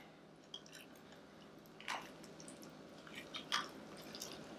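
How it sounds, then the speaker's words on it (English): Someone bites into and chews a pig candy BLT sandwich: a couple of moist, crunchy bites and soft chewing, close and fairly quiet, with no talk. "Let's take a bite and tell everybody how good they are."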